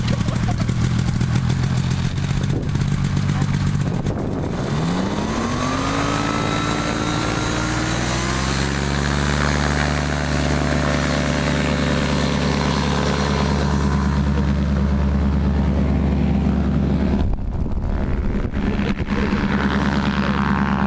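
A motorized hang glider's engine drones loud and close through about twenty seconds of flight, its pitch sliding upward early and then holding a steady buzzing whine with small shifts in tone.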